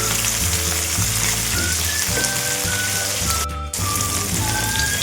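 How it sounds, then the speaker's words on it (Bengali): Small puti fish frying in hot mustard oil, a loud dense crackling sizzle close up, with a brief dip in the middle, no voices. "মাছটাকে একটু এপিট ওপিট করে হালকা ভেজে নেব।"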